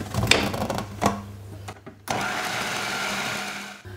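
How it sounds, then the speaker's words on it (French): A kitchen blender purees a spread of oven-roasted ingredients in a steady, loud whir lasting a couple of seconds after a few short clicks and bumps. "Là, on va mixer"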